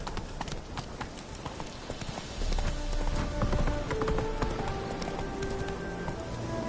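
Roach, the horse in the video game Witcher 3, trots with steady, close clip-clopping hooves that grow louder partway through, with faint background game sounds.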